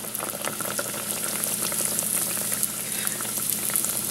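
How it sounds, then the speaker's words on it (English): Guyanese bake dough frying in hot oil, a steady bubbling, crackling sizzle with scattered pops, close and continuous with no voices. "once the oil is up to temperature, you're gonna add a bake"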